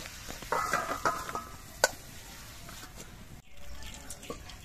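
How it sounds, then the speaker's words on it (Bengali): Onion, capsicum and tomato fry in oil in a pan, giving a soft ongoing sizzle broken by scraping and clinking strokes as the spatula stirs, with one sharp knock partway through. "পেঁয়াজ, ক্যাপসিকাম, টমেটো এগুলো নাড়াচাড়া করে আমি 2-3 মিনিটের মতো ভেজে নিয়েছি।"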